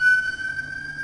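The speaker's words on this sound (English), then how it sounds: "I'm being hit by sirens." A steady siren-like tone holds at one pitch, loud and continuous with faint low hum beneath, in a home kitchen setting.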